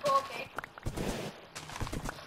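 A Minecraft horse's hooves clopping in quick succession at moderate level, with talk over the top.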